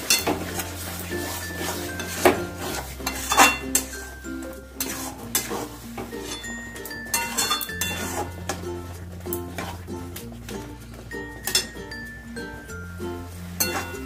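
Lote fish cooks in a pan over high to medium heat, stirred with repeated clinks and scrapes of a utensil against the pan over a soft sizzle, all beneath loud backing music.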